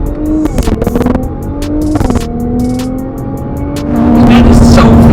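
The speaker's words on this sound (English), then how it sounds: "Nothing launches as hard as a GTR." A 2017 Nissan GT-R launches hard, its engine note climbing through several rising sweeps separated by quick gear shifts, growing louder and rougher near the end, with no talking.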